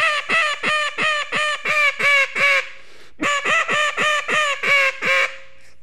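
An Illusion MiniMag duck call is blown in two quick runs of about eight loud, raspy, low quacks each, separated by a short pause, close and alone with no talk.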